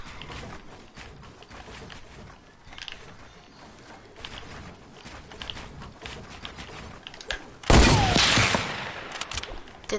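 Gunfire from a video game about building, a sudden loud burst of shots near the end after quieter mechanical game sounds throughout, with brief talk.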